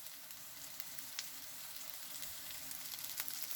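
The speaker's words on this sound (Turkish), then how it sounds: "Şimdi önceki kızarttığım köfteleri tavaya tekrar alıyorum." Fried meatballs going back into a hot frying pan, a soft steady sizzle and crackle with scattered pops, fairly quiet and close, no voices.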